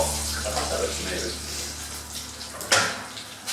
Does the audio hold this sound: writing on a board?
no